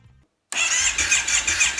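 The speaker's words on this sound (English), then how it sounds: "we're ready to crank the engine" A Kawasaki Brute Force ATV engine that had no compression is cranked and fires up. After a short silence it catches abruptly and runs loud and close at a rough, steady idle.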